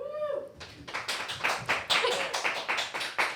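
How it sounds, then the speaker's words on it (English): Audience clapping at a live gathering, a burst of many hands that starts after a brief voice and continues as dense, uneven claps with loud peaks throughout. "Should we get a clap from the audience?"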